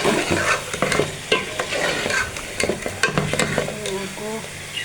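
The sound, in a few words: chicken with capsicum frying and being stirred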